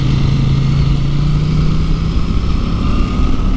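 A CFMoto 800NK motorcycle engine on a demo ride hums in a loud, steady, smooth drone, with constant wind rush and no voices.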